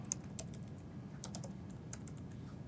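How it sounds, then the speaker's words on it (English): Typing on a computer keyboard during a Node.js coding lesson in a web browser: a quiet, irregular run of light key clicks over a low background hum, with no talk. "if I'm in the browser and I go in here and I type in window"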